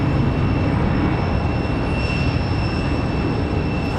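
A jet departing Raleigh-Durham airport for LaGuardia gives a constant, loud engine roar with a faint high whine running through it. No one speaks, and the rumble stays even throughout.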